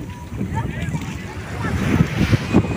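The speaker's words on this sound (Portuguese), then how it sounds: "as ondas estão bem fortes" Strong waves surge and break on Praia de Antunes beach late in the afternoon, a continuous rough wash of surf with wind buffeting the microphone and building louder toward the end.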